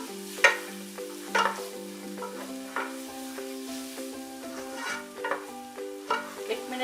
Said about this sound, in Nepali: एक मिनट जति यतिकै चलाएर फ्राई गरौँ।